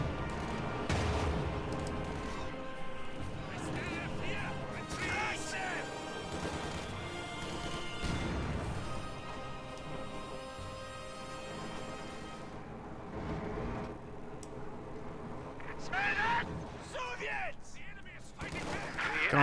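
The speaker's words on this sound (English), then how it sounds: "Conscripts moving back and north with rifle grenades firing" Rifle grenades are fired in a Company of Heroes 2 match between Soviet and Ostheer forces, amid dense, continuous battlefield gunfire and crashing impacts, while a commentator talks over the mix.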